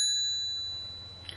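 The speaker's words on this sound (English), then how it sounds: "it doesn't come with a bell either, so I added a bell." A bicycle bell fitted to a Tidal Force M-750 electric bike rings once, a single clear ding that rings on and slowly fades over about a second.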